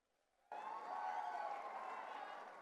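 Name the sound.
audience applause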